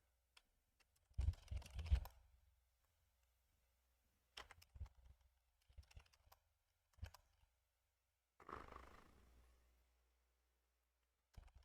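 Someone types on a computer keyboard while setting up a Gentoo install, in separate bursts of rapid clicking keystrokes broken by pauses, close up and fairly quiet in an otherwise silent room.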